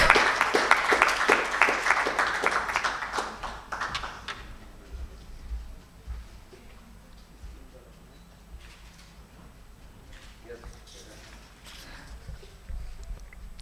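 An audience at a corporate social responsibility awards ceremony applauds award winners with a brief burst of clapping that fades within a few seconds, leaving quiet room noise, shuffling and faint movement.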